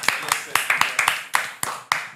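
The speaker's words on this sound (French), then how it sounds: "S'il vous plaît, on applaudit." A small audience claps on request at a French tech and entertainment show, about a dozen distinct, sharp claps spaced irregularly, close and fairly loud, with a voice underneath.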